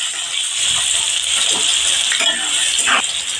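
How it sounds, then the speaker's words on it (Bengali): Chopped onion and a bay leaf fry in oil left from browning potatoes, making a loud, steady hiss and sizzle with a few soft stirring scrapes. "এবার ওই তেলেতে দিয়ে দিচ্ছি একটা তেজপাতা আর পেঁয়াজ কুচানো।"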